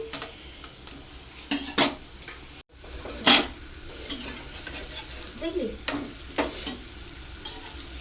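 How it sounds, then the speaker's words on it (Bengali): Paratha frying in a little oil beside potatoes with onion in a home kitchen, a constant sizzle broken by scraping and clinks of a spatula against the pan at irregular intervals. "রুটি ভেজে নিচ্ছি একটুখানি তেল দিয়ে, মানে পরোটা মতো"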